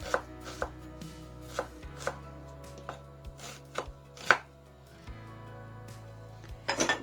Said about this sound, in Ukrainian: Цибулю нарізаємо невеликими кубиками.